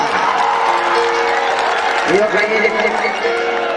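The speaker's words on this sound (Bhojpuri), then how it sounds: "अरे मतलब मरद खानी ताली बजाओ" Steady applause and crowd noise fill an open-air Bhojpuri festival ground, loud and sustained, while a voice speaks over the top.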